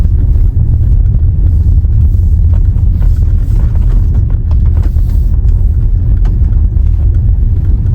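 Volvo XC60 pulling away from a standstill in electric mode over cobblestone paving, heard as a loud, continuous low rumble of tyres on the stones with faint irregular bumps and no engine note.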